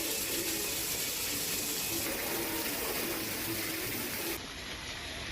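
Heavy rain pouring steadily over Amreli city during a monsoon night, a dense, continuous hiss of falling water with no voices, slightly thinning near the end.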